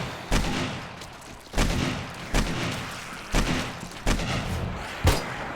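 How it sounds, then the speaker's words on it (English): An unidentified gun in the 7 Days to Die video game, played with the Starvation mod, fires six loud, booming shots at a steady, even spacing of roughly one per second, each with a short decaying tail. "What the hell gun is that?"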